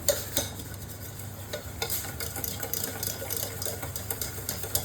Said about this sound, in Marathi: छान फेटून घ्यायचं एकत्र.